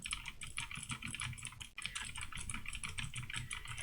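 A MeeTion budget mechanical keyboard with Otemu blue switches, typed on steadily and close up, giving a dense run of sharp clicky keystrokes with one short pause partway through.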